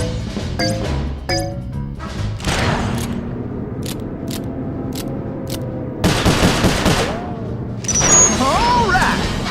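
Gunfire in the Sly Cooper: Thieves in Time video game, with bursts of rapid shots and crashes spread through a busy mix of game noise, music and character voices talking.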